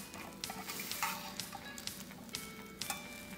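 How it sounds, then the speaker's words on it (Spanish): Portobello mushrooms cooking on low heat in a frying pan give a steady soft sizzle with small ticking pops, close and continuous, with no one talking. "voy a reservar mis portobelos, los voy a dejar en fuego bajo, en este sartén"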